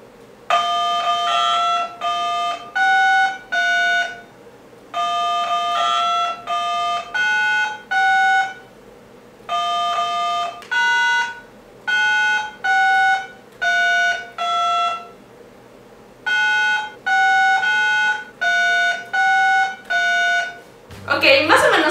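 Phone number-key tones beep out the Happy Birthday melody in short bright pulses, grouped into repeated phrases with brief pauses, ending in a burst of noise.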